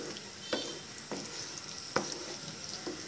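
Sweet and sour chicken being stirred and fried in a pan with cornstarch sauce over raised heat, a steady sizzle broken by four distinct scraping stirs of the spatula, close and moderately loud with no talk.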